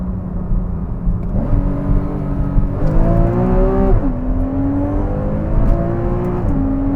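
A Porsche 981 Cayman S engine pulls hard through the gears, its tone rising steadily, dropping briefly at each upshift, then climbing again, loud and close from inside the cabin with no talking.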